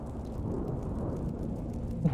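Thunder in the horror video game Wick rumbles low and faint, a distant rolling boom lasting a couple of seconds, swelling slightly toward the end.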